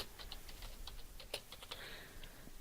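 Light typing on a computer keyboard, a steady run of soft individual key clicks, quiet and fairly close, with no voices.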